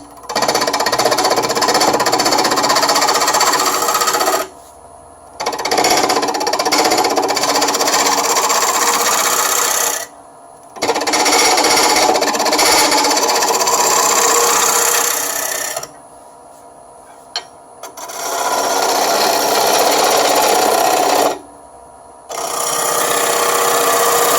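A wood lathe turning a natural edge bowl with a 1/2-inch bowl gouge gives a loud, steady scraping roar, broken by several short pauses where the cut stops before it resumes.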